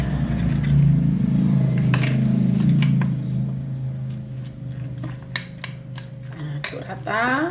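Egg, tofu and green onion mixture with oyster mushrooms stirred in a bowl, a steady scraping and clinking of a spoon against the dish, close and fairly loud, with a low hum underneath and a quick rustle near the end.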